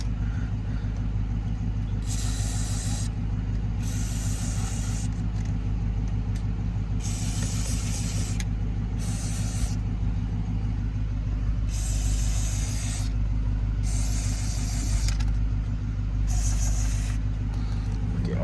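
Aerosol cleaner sprayed into a car's air conditioning vents in repeated hissing bursts, close and steady, over a constant low engine or cabin rumble.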